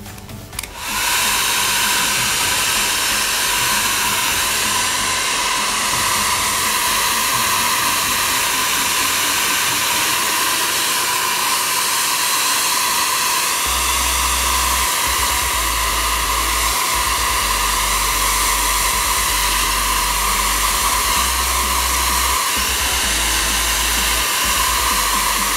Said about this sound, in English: so excuse the noise while I just dry this quickly.